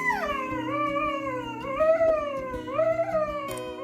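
A tall greyhound howls along with music, a long wavering, rising and falling cry over a steady musical backing, close and clear.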